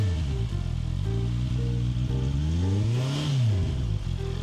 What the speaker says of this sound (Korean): 4기통다운 부드럽고 정갈한 순정 엔진 사운드가 나옵니다.